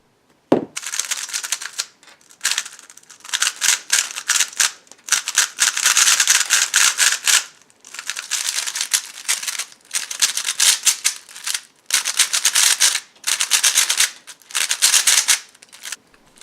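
Mofang Jiaoshi MF3RS2 and Yuxin Little Magic speed cubes turned quickly in close succession, giving bursts of fast, dry plastic clicking and rattling separated by short pauses, close and fairly loud with no talking.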